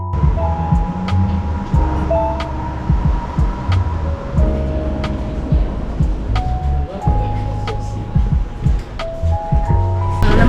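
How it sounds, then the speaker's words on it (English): Riding aboard the Seattle Monorail, built for the 1962 World's Fair, toward the Space Needle: a steady rolling rumble and droning motor whine fill the car, with rising and falling electric tones and occasional knocks. "On the monorail, heading to the Space Needle."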